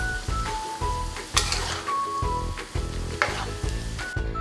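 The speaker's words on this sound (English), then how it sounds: "Now we just let it simmer for about 5 minutes." Soybean paste noodle sauce simmering in a pan, a steady close sizzle with repeated stirring and scraping strokes recurring every half second or so, occasional louder clanks of the utensil against the pan, with no voices.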